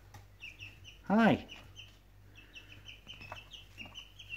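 Pheasant chicks on a smallholding peep in a quiet high chirping patter, with a brief loud fowl call and a short spoken greeting near the start.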